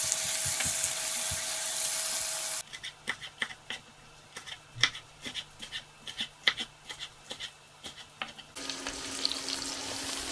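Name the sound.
carrots and onion frying in a pan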